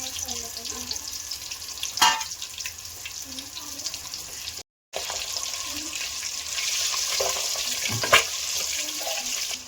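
Boiled eggs dropped into hot oil in a pan for Telugu-style egg masala curry, a steady sizzle with a few sharper crackles and clinks, with quiet talk.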